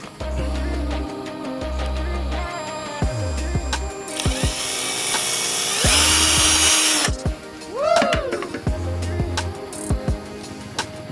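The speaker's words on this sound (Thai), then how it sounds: "ใส่สายยางเข้าไปก่อน แล้วก็เจาะครับ" A power drill bores into a rubber tree trunk to fit a tapping hose, whining in several loud bursts of rising and falling pitch with pauses between, alongside a steady background hum.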